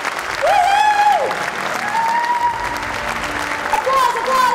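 Loud clapping and cheering for an award winner at the Fernando Award 2015 ceremony, with drawn-out whoops and shouting voices carried over the continuous applause throughout.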